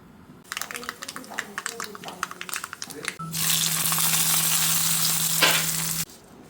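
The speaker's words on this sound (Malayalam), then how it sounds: "നമുക്കിതിലോട്ട് കടുക് പൊട്ടിക്കാം" Mustard seeds spluttering in hot oil for a curd-based banana-stem dish: first quick scattered pops and stirring, then a loud continuous hiss and crackle that cuts off abruptly near the end.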